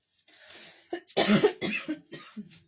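A woman coughs several times in a row, short harsh bursts close to the microphone, starting softly and then breaking into a louder cluster of hacking coughs.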